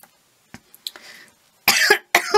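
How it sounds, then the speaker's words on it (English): A few small throat sounds and a breathy clearing, then two harsh, close coughs in quick succession. "Oh, it's making me cough now."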